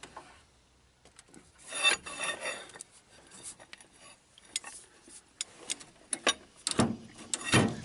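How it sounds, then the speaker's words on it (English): Wrench work tightening a bolt on a 1964 Chrysler Newport, heard as close, uneven rubbing and rasping metal scrapes with ratchet-like clicks, building to sharper bursts near the end, with no talking. "Yeah, we're tightening the bolt."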